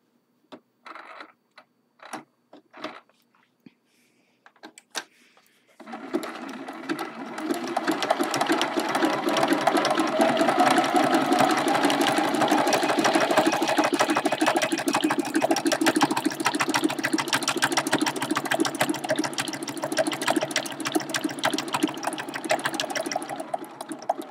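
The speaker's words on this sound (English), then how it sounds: "I think that's all the zigzag stitches that I want to do on this mug rug" A sewing machine stitching zigzag stitches on a quilted mug rug. A few scattered clicks come first, then the motor runs in a long, steady, close rattling hum for about eighteen seconds before easing off.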